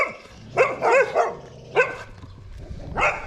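Dogs barking near a temple in Khon Kaen, Isaan, Thailand: a few sharp, close barks in quick clusters with short pauses between, loud and clear, with no talk over them.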